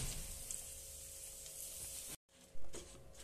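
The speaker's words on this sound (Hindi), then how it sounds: "अब इसमें हम हमारी भिंडी को डाल देंगे। ये मैं भिंडी को डाल देती हूँ।" Okra dropped into hot oil with fennel seeds, giving a steady broadband sizzle and frying crackle, then a brief silent gap followed by a louder burst of spitting as the okra is stirred in.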